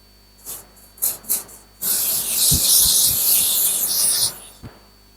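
Spray sunscreen misted onto a face over makeup: a couple of short puffs, then one long, loud, close hiss lasting a few seconds, followed by a brief final spritz.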